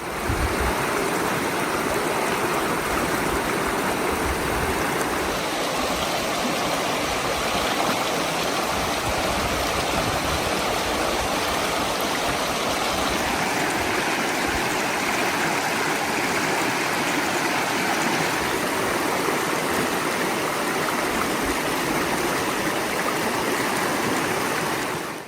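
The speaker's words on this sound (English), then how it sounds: "And here we are, finally at the Charyn River." The Charyn River flows through its canyon in Kazakhstan, a steady, loud, unbroken rush of water that fills the whole stretch with no voices.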